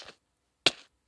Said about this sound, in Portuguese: Vocês estão vendo que o novo som de dono é assim, ó.